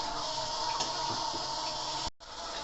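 Water rushing through a Koln boiler after the tap is opened at start-up, a steady close whooshing flow that cuts out briefly near the end and then resumes.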